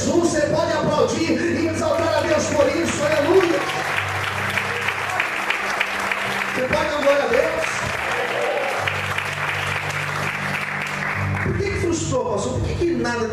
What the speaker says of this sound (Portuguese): Você pode aplaudir e exaltar a Deus por isso, aleluia.